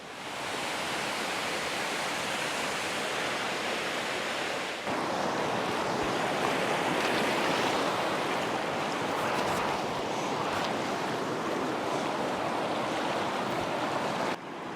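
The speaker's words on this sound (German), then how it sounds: "ein Fluss mit frischem Alpenwasser" Rushing Alpine river of fresh mountain water in the Swiss Alps, a steady, loud, broadband roar that swells slightly after a few seconds and continues without any break, close to the listener.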